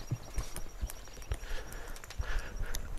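A horse walking during a training session, its hooves clip-clopping in a steady, fairly close rhythm of sharp knocks over a low background hum.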